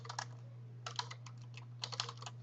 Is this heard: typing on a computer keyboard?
yes